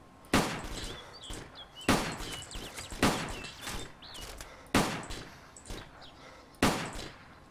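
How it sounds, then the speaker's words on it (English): Gunfire in the survival video game DayZ: five sharp, loud single shots spaced roughly a second and a half apart, each with a short echoing tail, with faint voices between them. "Shoot now."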